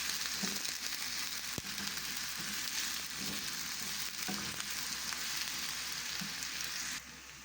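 Spice paste fries in hot oil in a pan until it turns red, for a lentil soup, giving a steady, close, dense sizzle that crackles continuously with a few sharper pops and no talking.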